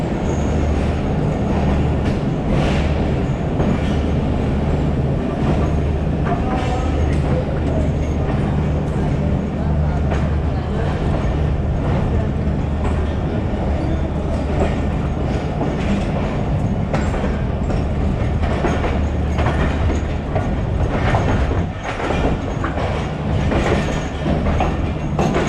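Pakistan Express passenger train pulled by a GEU40 locomotive, leaving Multan and accelerating on the rails: loud, constant rumble with clickety-clack wheel beats and some squeal, heard from on board throughout.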